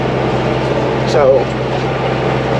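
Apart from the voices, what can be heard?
tractor engine running while baling hay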